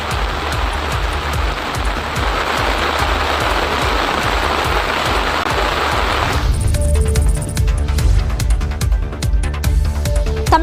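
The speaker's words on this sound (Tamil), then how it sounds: "கனமழை காரணமாக திருத்துறைப்பூண்டி பழைய பேருந்து நிலையம், நாகை சாலை உள்ளிட்ட பல்வேறு பகுதிகளில் மழைநீர் பெருக்கெடுத்து ஓடியது" Heavy rain pours down on the flooded streets of Thiruthuraipoondi near the old bus stand and Nagai road, a dense, loud, steady roar of drops and running water that shifts to a lower, rougher wash partway through.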